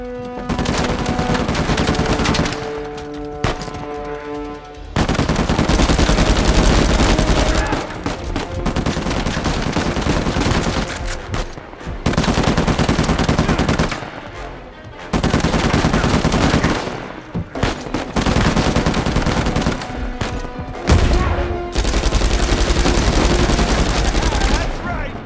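Video game gunfire rattles in long, loud bursts of rapid automatic shots, separated by brief pauses, with a voice speaking between the volleys.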